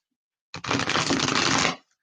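A deck of tarot cards being shuffled, one dense riffling burst of about a second, close and crisp, with silence before and after.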